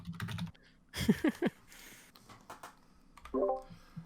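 Keys clatter on a computer keyboard as someone types a message, in short quiet bursts of clicks with pauses between them and a few low thumps.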